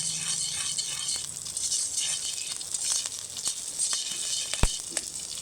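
Black cumin and green chili sizzle in hot oil, a steady hiss with light crackles and a few sharp pops, close by and without speech.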